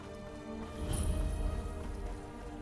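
Horse hooves clip-clop in the video game Skyrim, a dense continuous rumble that swells in the middle under a busy game soundscape, with no clear whinny standing out.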